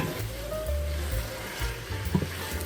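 Pork shoulder meat stir-fries in sauce in a pan, giving a low, continuous sizzle with soft stirring and scraping throughout, near and moderately loud, with no talking.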